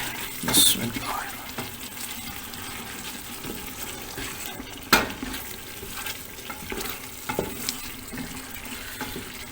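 Fried eggs being stirred into a korma masala in a pan: soft frying sizzle with scraping spoon strokes, a few louder clanks of the utensil against the pan, close and steady.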